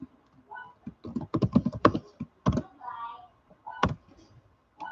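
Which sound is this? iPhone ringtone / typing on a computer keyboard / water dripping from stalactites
typing on a computer keyboard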